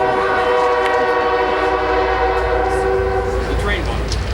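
A train horn blows a long, loud, sustained chord close by over the rumble of the rolling train, holding steady for several seconds before tailing off.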